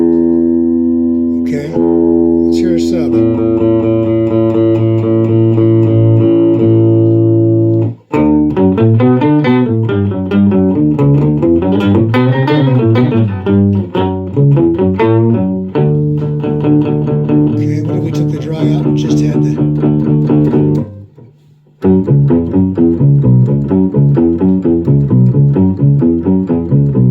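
Electric guitar run through an Electro-Harmonix Epitome pedal on a sub-octave setting, giving a thick, cello-like tone as it plays sustained notes and chords continuously and loudly, with one brief gap near the end.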